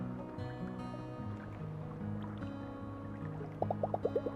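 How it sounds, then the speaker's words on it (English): Boat paddles idling in water with waves lapping at the hull in the video game Dungeons of Hinterberg, soft watery sloshing under low tones, then a quick series of about six light splashes near the end. "Just the sound of my paddles idling in the water and the occasional wave lapping at my boat."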